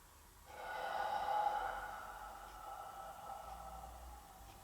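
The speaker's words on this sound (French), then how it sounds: "Et j'engage ma respiration." A person doing a pilates exercise, lying flat on their back on a mat, breathes out in one long, steady, breathy exhale that swells and then slowly fades. It is close and fairly quiet, with no talking.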